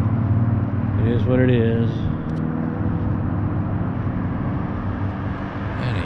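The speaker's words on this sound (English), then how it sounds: "A lot of traffic noise here" Continuous low traffic rumble carries across an RV resort in Mesa, Arizona, a steady roadway drone with a passing vehicle, while a person speaks briefly over it.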